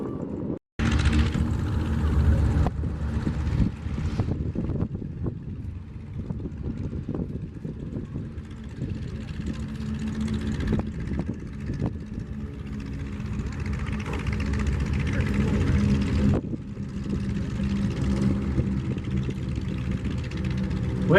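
Aircraft coming in over the runway at the Oshkosh AirVenture 2025 air show: a sustained, moderately loud engine drone and rush that continues throughout, with outdoor crowd ambience.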